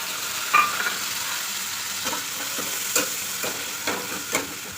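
Ground spice paste frying for pointed gourd korma, a steady moderate sizzle with faint crackles and a few soft stirring taps, no voices.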